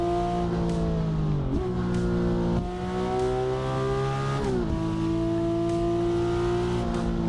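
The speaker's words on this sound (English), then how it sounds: "And this car sounds so cool as well." A Genesis car's engine revs steadily in a racing video game on the LA Canyon map, with tones that climb and drop sharply at gear shifts, loud and continuous with no talking.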